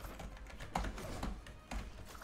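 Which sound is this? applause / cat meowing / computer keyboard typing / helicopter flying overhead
computer keyboard typing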